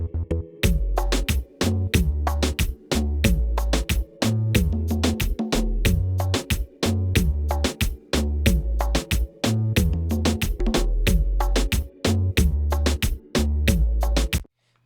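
A bass layer and a sub bass layer combined in an electronic mix, a steady run of deep bass notes under sharp, regular percussive hits, loud and continuous with no voices.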